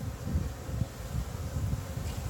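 Honeybees hum around an open hive during an inspection, a steady low drone that stays faint and even throughout, with no voices over it.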